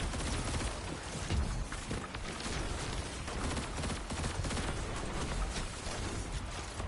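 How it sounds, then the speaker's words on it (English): Rapid bursts of pulse rifle fire in the video game Destiny 2, played as a Hunter on PS5, forming a dense, continuous stream of loud gunfire with no talk over it. "I really love this freaking pulse rifle, dude."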